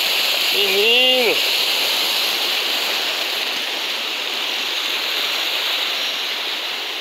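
Continuous rushing white noise of a waterfall fills the scene from start to end, with a short bird-like call near the beginning, in Vitória de Santo Antão, Brazil.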